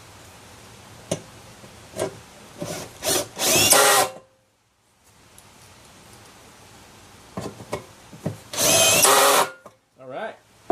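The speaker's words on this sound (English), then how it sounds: "lets me bury these screws without drive them all the way in without it feeling like it's going to start stripping" A power drill drives screws into wood in two short bursts, each a rising whir lasting about a second, the first near the start and the second near the end. Light knocks and ticks from handling fall between the bursts, with a short silent gap in the middle.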